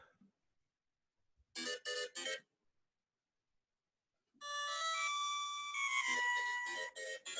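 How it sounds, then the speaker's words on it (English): A bright, chiming Super Mario Bros. game jingle: a short burst of three quick tones, a pause, then a longer warbling melodic whistle, clear and upfront. "That was the whistle I was looking for"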